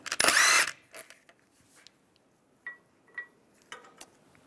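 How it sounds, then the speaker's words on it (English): A 17mm socket on a wrench turns a wheel lock off a 1998-2010 VW Beetle: one loud burst of ratcheting or impact noise up front, then faint clicks and small metallic clinks of the socket and lock in a quiet space. "Use the wheel lock key, find the wheel lock, take that one off with a 17mm socket."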